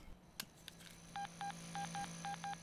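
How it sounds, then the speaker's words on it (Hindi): Telephone keypad dialing tones, a quick series of six short even beeps in pairs and singles, faint over a low background hum, no speech. "मुझे मुकेश से बात करनी है, क्या आप उसे फोन लगा देंगे?"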